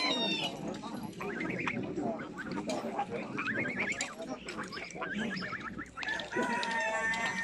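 Roosters and chickens at a poultry market, with repeated clucking and crowing layered over a busy, continuous crowd of market chatter; several birds call close by while people talk throughout.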